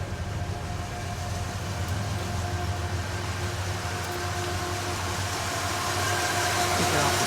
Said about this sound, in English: It's going down to idle now.